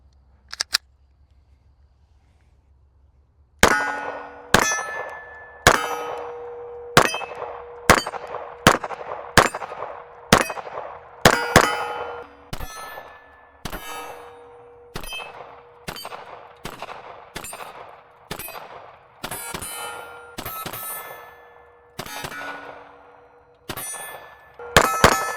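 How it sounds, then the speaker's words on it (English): Pistol shots from a Springfield Armory Echelon ring off steel targets at about 15 yards, a steady string of roughly twenty sharp cracks each followed by a bright metallic clang, loud and close with short pauses between. "Time to shoot some steel."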